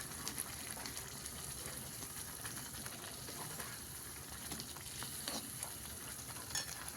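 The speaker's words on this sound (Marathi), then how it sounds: "थोडंसं हलवून घेऊया." Eggs frying in simmering masala gravy are stirred in a pan, giving a steady, close sizzle with soft scraping and bubbling throughout, with no voices.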